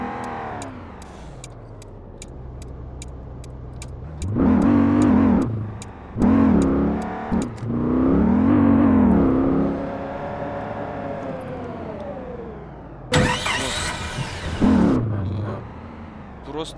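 A BMW M5 F10 sedan engine in Euro Truck Simulator 2 surges in loud revving bursts that rise and fall, with quieter stretches between them, while someone talks over much of it.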